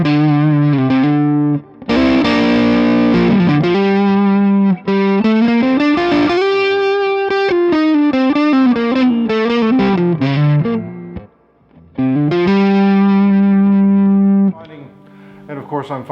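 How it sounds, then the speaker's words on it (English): Through a Delos pedal on its drive setting, an electric guitar plays a loud, overdriven run of sustained notes and chords with rich distorted harmonics, pausing briefly between phrases. "let's put it on the drive setting, see what it sounds like"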